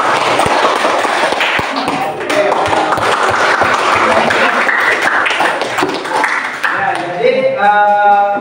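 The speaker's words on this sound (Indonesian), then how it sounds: "Oke, tepuk tangan untuk kelompok 3." Loud, steady applause from a classroom group fills the room, many hands clapping together at once, ending with a few brief tones at the close.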